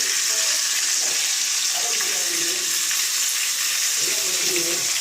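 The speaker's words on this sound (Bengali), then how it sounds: "এই সব ভাজাই আমি সরষের তেলে করছি।" Vegetables such as pointed gourd and okra fry in hot mustard oil, a loud, dense, continuous sizzle that carries steadily throughout, with a faint voice now and then underneath.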